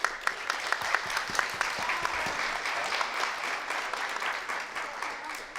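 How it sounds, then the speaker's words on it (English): A crowd applauding VIP guests at an Arctic sports event during the Inuit Games, steady clapping that carries across the whole span with a hint of voices beneath. "Give a big round of applause to our VIP guests."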